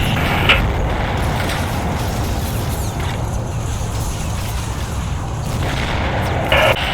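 Artillery firing on a church in the video game Combat Mission, heard as a steady roar of battle noise with a few sharper booms rising out of it, no voices.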